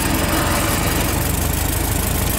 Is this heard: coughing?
no